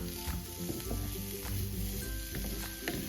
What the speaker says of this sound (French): Quand mon huile est bien chaude, j'ajoute 2 oignons émincés.